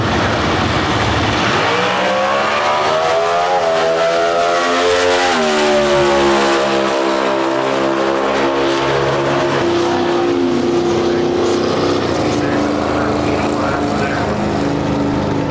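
Factory Stock drag race cars launch and roar down the strip at the NHRA Summit Nationals in Norwalk, Ohio, engines climbing steadily in pitch through the run, loud and sustained beneath a commentator's voice.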